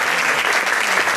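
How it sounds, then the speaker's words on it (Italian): An audience gathered for a choking-rescue first aid course breaks into a brief burst of dense, steady applause, loud and close. "E ringrazio e prego di fare un applauso"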